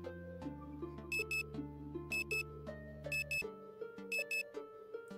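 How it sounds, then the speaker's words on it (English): An alarm clock ringing alone with a repeating electronic melody, its tones stepping in a regular pattern and punctuated by bright, high beeping bursts in quick pairs. "I sit up and turn my alarm off before stretching."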